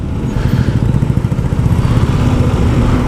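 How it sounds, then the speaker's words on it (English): A KTM 390 Adventure motorcycle engine runs nearby with a rapid, uneven low thumping that grows slightly louder and steadier toward the end, heard alone without talk. "We have a KTM 390 Adventure."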